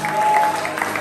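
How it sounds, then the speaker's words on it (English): Brief burst of clapping from a comedy show audience at a live Liberian stand-up event, a short, fairly loud patch of hand claps with crowd noise mixed in. "clap for yourself"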